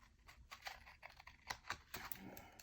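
Paper is cut off a planner page in a rapid series of small, close, crisp snips and taps, quiet overall with no voices.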